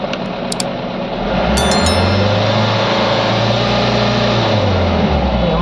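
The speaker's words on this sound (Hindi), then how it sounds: "ये हमारी गाड़ी स्टार्ट हो चुकी है।" A Mahindra Bolero pickup's diesel engine settles into a steady, close-up idle after starting, with a low, even drone and no talking.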